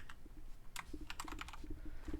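Rapid keystrokes on a computer keyboard while entering a Minecraft /give command, steady clicking bursts close up with no voices.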